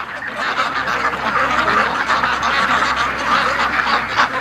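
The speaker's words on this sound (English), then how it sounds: "I was blown away by those Muscovy flying back today when I got home." A flock of Muscovy ducks close by keeps up constant overlapping quacks and hoarse calls, loud and busy throughout.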